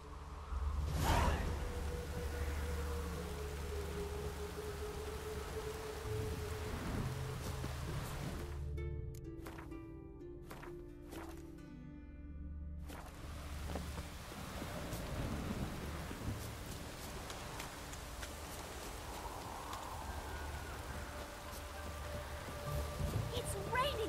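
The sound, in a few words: rain pouring in the video game The Witcher 3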